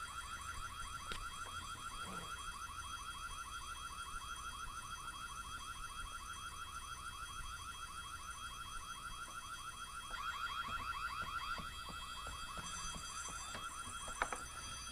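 A continuous electronic alarm rings on and on in the horror game Whiteday: A Labyrinth Named School, a steady pulsing tone that stays loud for the whole stretch with no voices over it.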